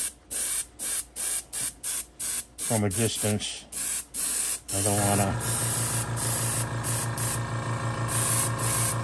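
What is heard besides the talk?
spray painting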